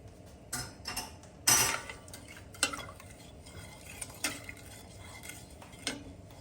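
Sugar and other ingredients go into a pot of water on high heat for a pasteurized cucumber salad, giving a few sharp clatters and scrapes of spoon and granules against the pot over a quiet kitchen background.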